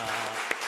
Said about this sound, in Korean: 감사의 박수 한번 올려드리겠습니다